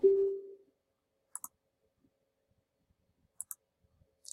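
Computer mouse clicking on a menu, with a few crisp, close double clicks spaced apart in near silence after a brief low thump at the start.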